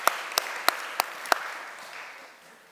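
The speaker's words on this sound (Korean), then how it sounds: "다 같이 박수로 환영하겠습니다" Church congregation clapping to welcome a missionary speaker, a soft, fairly distant patter of applause with a few sharp, close claps standing out early, fading away over a few seconds.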